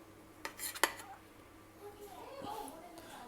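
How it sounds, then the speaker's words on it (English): Fried dal bora pieces are set back onto a pan with a few sharp clinks of utensil against metal, close by, followed by softer scraping and faint voices in the background. "I'll put these pieces back on the pan so that they remain hot until we eat it."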